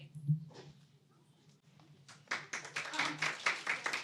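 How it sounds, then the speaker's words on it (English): A round of applause starts at a morning network meeting: soft talk and quiet room sound come first, then a small group begins clapping, close and moderately loud, in quick, uneven claps. "Thank you, Julius, for starting that round of applause"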